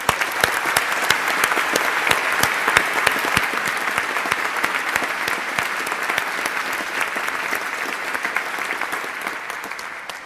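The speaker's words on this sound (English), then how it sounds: "Please join me in applauding them again." Sustained applause from the hall at a University of Edinburgh LLM winter graduation ceremony, many hands clapping in a thick, even roar with some sharp individual claps standing out, tapering slightly at the end.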